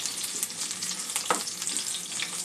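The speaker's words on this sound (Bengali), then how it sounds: "আলু আর বেগুনটা একটু হালকা করে ভেজে নেব।" Potatoes and eggplant fry in a pan of hot oil for a fish egg curry, giving a steady close sizzle with a few light stirring clicks and no talk.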